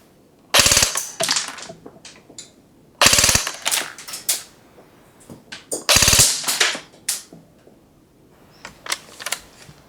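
Aim Top G36C airsoft electric gun on an 11.1 volt LiPo firing three short full-auto bursts, each a rapid mechanical rattle of about a quarter second, loud and close, with quieter clicks and handling noise between.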